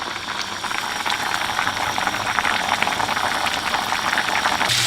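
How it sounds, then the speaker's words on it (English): Water boils off candied yams in a pot on high heat, a loud, close, steady bubbling and sizzling hiss that continues throughout. "you can see that the water's cooking off of it"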